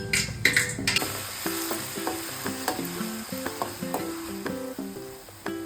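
Ground green chilli paste sizzles in hot oil, with a busy crackle and irregular clinks and knocks of a spoon against the pan running all through it. No one speaks.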